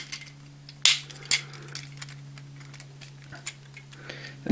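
Plastic parts of a DX WizarDragon toy folding out, two sharp close clicks early, then softer small ticks and rattles over a steady low hum.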